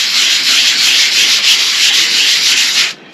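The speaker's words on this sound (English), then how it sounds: "the dual action sander and put a piece of this on there and just take it nice and easy" Dual action sander smoothing primer on a rusty 2002 Ford F350 truck, a loud steady abrasive whirr held close for about three seconds before cutting off.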